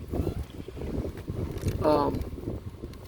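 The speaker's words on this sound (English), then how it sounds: "Got a little bit of wind going up here" Wind blowing over a high rise on a mountain overlooking desert towns, rushing and buffeting against the microphone in steady gusts, with a person talking over it.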